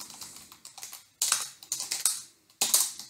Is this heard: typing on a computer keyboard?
yes